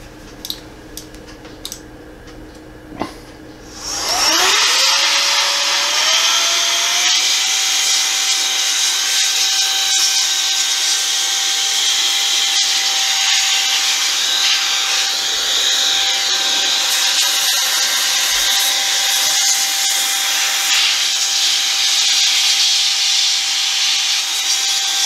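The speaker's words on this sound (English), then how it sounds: "So I'm going to grab the opportunity to use the air duster in here." After a few faint clicks and taps, an air duster bursts into a loud, steady hiss blowing dust out of an HP Pavilion 15 notebook, with a rising then sustained whistling tone held close for about twenty seconds.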